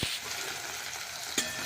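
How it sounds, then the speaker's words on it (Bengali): Chopped tomato frying in a pan with panch phoron, a steady broadband sizzle with a brief stir or scrape near the start and another near the end, close and moderately loud with no talking. "এবার টমেটোটা একটু ভেজে নেব।"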